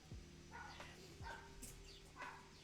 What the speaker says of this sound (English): dogs are barking